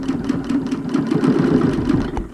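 A BERNINA Q 24 longarm quilting machine stitching in the ditch of a quilt along a ruler with Aurifil thread, giving a steady, close, rapid mechanical whir with fast rhythmic needle ticking throughout, ending in a brief knock.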